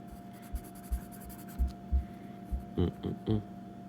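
Knife cutting the corners out of rawhide fitted on the end of a wooden walking stick, heard as a series of soft close scraping and thudding strokes at irregular intervals over a steady low hum.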